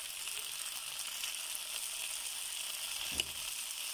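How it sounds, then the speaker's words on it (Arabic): Broad beans frying in hot oil, a steady soft sizzle and crackle throughout with one brief stir or clink near the end, close and fairly quiet, no talk. "هسه تحمس عندنا الباجلة."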